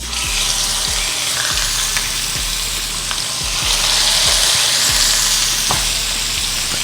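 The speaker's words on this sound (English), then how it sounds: "we're going to sear these babies on the fattest part down" Chicken breasts sear fat side down in a hot pan, giving a loud, steady sizzle and crackle with periodic low thumps, close up and without talking.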